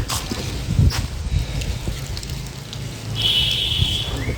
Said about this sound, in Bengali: আর এই যে ঝড় বৃষ্টি,